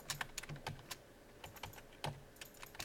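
Keys clatter on a computer keyboard in a classroom lecture setting, with irregular clusters of quick, crisp clicks at close range against a quiet room.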